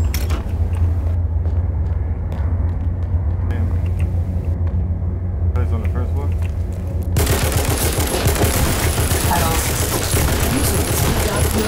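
Dense bursts of gunfire, including shotgun blasts, in a multiplayer shooter video game. The shots are heavy and broadband, building to a loud, continuous barrage in the second half.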